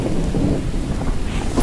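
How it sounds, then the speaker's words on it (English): Heavy rain pours over a deep, rolling rumble of thunder in The Infected survival video game, with a loud, dense and continuous downpour and no voices. "It is a beautiful rainy day"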